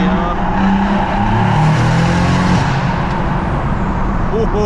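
A big-turbo BMW M140i fitted with a screamer pipe accelerates hard through a tunnel, its loud engine roar and turbo noise echoing densely around the car.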